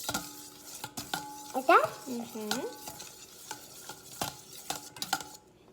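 A toddler mixing French toast batter in a bowl, quick repeated scraping and clinking strokes running throughout, with a brief spoken question near the start.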